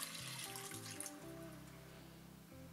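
A glass of water poured into a pot of red lentils for cooking, a steady close pour that fills the pot with a continuous gurgling stream, alone without talk.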